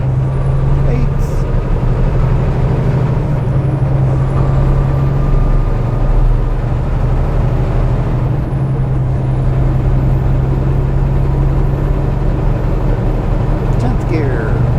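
A Kenworth T680 truck drives along and shifts up through its gears, with a loud, steady engine drone inside the cab and slight changes in pitch as each gear change takes hold.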